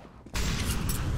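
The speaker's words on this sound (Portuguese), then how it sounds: "Incendiary out." An incendiary grenade bursts into roaring flame in Counter-Strike, a brief soft lead-in followed by a sudden loud, broad whooshing blaze that holds steady, close and alone.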